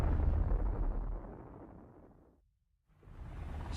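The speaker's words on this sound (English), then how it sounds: "It explodes with a force of 10 million tons of TNT, 600 times more powerful than the bomb that destroyed Hiroshima." Hydrogen bomb explosion sound effect in a nuclear weapons documentary: a loud deep rumbling blast that fades to near silence, then a rising roaring whoosh returns.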